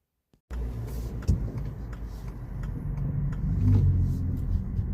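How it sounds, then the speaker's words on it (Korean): A Subaru Solterra electric car drives along a road, giving a steady low rumble of road and cabin noise that swells slightly toward the end, with a brief bump near the start and no voices. "일단은 스바루 이 소울텔라 이 드라이브 영상 먼저 보고 오시죠."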